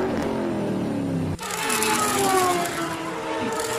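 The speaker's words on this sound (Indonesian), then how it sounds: "Dua supercar dikejar polisi balapan di jalan raya." Two supercars race along a highway while chased by police, their engines whining steadily in a continuous, fairly loud roar with rising and falling pitch and a brief dip partway through.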